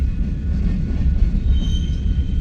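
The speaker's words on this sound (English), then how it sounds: "This train will head west to North Platte" A heavy westbound freight train near Bailey Yard, North Platte, rumbles steadily past, low and continuous, with faint metallic wheel squeal rising near the end.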